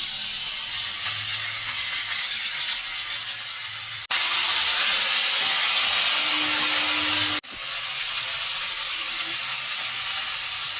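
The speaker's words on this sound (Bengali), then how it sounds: "সেই সবজিগুলো আমি দিয়ে ভাজবো" Mixed vegetables for Bengali shukto fry in a pan after bitter gourd, producing a loud, steady broadband hiss that cuts abruptly in and out, with no talking.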